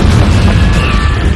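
A Confringo fire-blast spell explodes in Hogwarts Legacy, a loud, dense, rumbling burst filling the moment, close and sustained without a clear decay.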